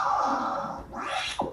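A short, isolated sample plays from a record: a sustained tone with a sweeping rise near the end and a quick downward swoop, no talk.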